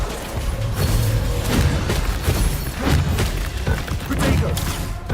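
Confringo and Bombarda spell blasts in Hogwarts Legacy, delivered as dense, booming thumps and crashes in rapid succession, loud and continuous throughout.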